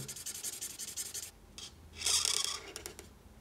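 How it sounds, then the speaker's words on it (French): A black alcohol-based felt-tip marker colors in a drawing on paper with quiet rapid back-and-forth scratching strokes, a short pause, then a denser stroke burst and a few light dabs, close and faint. "J'utilise ensuite le feutre noir à alcool pour colorier bah, déjà les pupilles"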